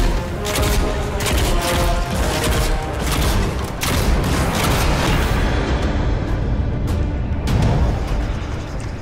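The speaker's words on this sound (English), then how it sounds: "viscous cannon bombs don't explode on impact, instead detonating a few moments after its adhesive properties take hold" Sticky viscous cannon bombs from the game Nosgoth detonate in a dense barrage of loud booming blasts and crashing explosions, overlapping continuously without pause.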